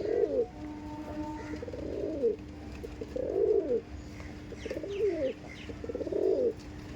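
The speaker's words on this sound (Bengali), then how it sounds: "এই পায়রা আমার অনেক ফেমাস আছে, কালদুমা পায়রা।" Kaldum pigeons coo in a steady, rhythmic series of low, rolling calls repeated about every second and a half, close and clear over a quiet background.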